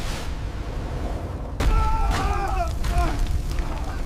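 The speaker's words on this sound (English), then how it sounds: "An explosion, not catastrophic, but powerful enough to terrify the crew." A muffled, powerful gas explosion aboard a ship at sea bursts out suddenly partway through, followed by a deep rumbling roar and crackling debris that linger to the end, with no voices.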